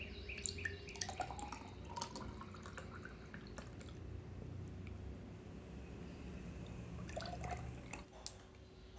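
Sattu sherbet made with chickpea flour being poured into a glass, a faint steady liquid trickle with light clinks and splashes, quiet and close.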